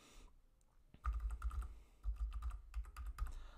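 Someone types a password on a computer keyboard in a quiet room, a run of close, crisp key clicks in uneven bursts with short pauses between them.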